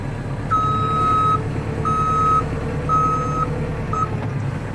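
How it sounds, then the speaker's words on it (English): Backup alarm on a Kubota 5740 tractor sounds as four steady high beeps in a regular on-off rhythm, loud and close over the tractor's low engine rumble. "Backup alarm is off now when I turn it on."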